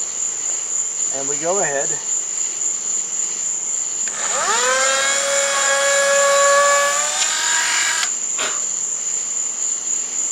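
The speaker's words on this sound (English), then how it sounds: "we drill through into and through the actual plastic Teflon hinge" A Dremel bores through a plastic Teflon hinge on an Emirates 777-9X RC airliner model: a brief spoken phrase, then a loud, near motor whine that climbs in pitch and holds for about four seconds before cutting off, over a steady high hiss.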